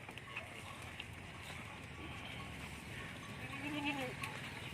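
Castrated Rajanpuri goats at a goat farm in Sajawal give a single faint bleat near the end, rising over quiet, steady farm ambience.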